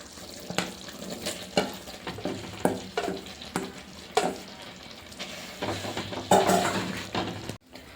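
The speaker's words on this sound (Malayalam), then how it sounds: "ഇത് ഗ്രേവി നന്നായിട്ട് തിളക്കുന്നുണ്ട് ഇനി ഇതിലേക്ക് നമുക്ക് വഴറ്റി വെച്ചിരിക്കുന്ന ക്യാരറ്റ് കൂടി ചേർത്ത് കൊടുക്കാം" Carrot pickle gravy bubbles and sizzles in a pan as sautéed carrots are stirred in, with rhythmic scraping strokes and a continuous close sizzle.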